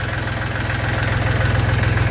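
A YTO 244SX tractor engine runs at a steady idle-like chug, loud and close, with a rhythmic low pulsing throb and no voices.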